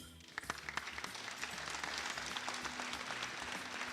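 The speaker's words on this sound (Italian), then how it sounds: "vi chiedo di fare un applauso sentito" An audience at a live theatre show in Grugliasco starts clapping, the applause swelling within a second into a steady, full round of many hands heard from within the hall.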